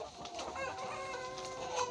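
A flock of four-month-old CP crossbred chickens clucks steadily at a moderate distance, many overlapping soft calls forming a continuous farmyard murmur.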